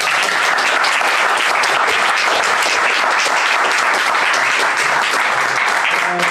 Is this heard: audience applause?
yes